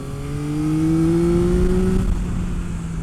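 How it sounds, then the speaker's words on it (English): A Triumph motorcycle engine drones loudly and close, its pitch climbing steadily as it revs, then easing off. "It revs up so fast."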